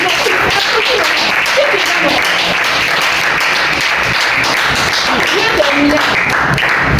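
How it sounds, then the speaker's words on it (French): People at a training event applaud themselves, producing loud, continuous crowd clapping with voices murmuring and calling out underneath. "Applaudis à toi-même."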